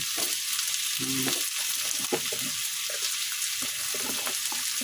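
Hard squash, kalabasa, dropped into a hot pan for pinakbet, a steady loud hiss of frying with occasional stirring clinks and scrapes.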